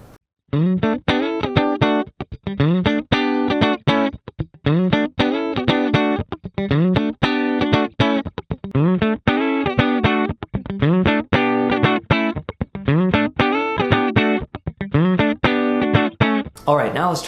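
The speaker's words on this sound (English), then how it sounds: "let's test out the middle pickup now." Donner DST-100T Strat-style electric guitar on its middle pickup, clean tone with a chorus-like shimmer, rhythmic strummed chords in short repeated bursts with brief gaps, close and prominent.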